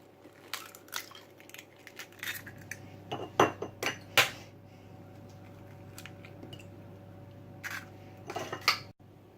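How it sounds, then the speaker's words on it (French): Three eggs cracked into a salad bowl for a meatless zucchini gratin produce a series of sharp taps, cracks and clinks against the bowl, spread in small clusters over quiet kitchen background; no talking. "je vais mettre les 3 œufs."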